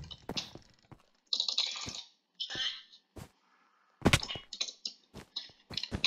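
Computer keyboard keys clicking during typing in a video game session, bursts of quick, close clacks separated by short pauses, with no voices.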